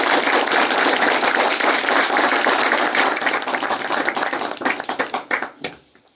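Audience clapping at a business seminar, loud and continuous at first, then thinning into scattered individual claps that fade out.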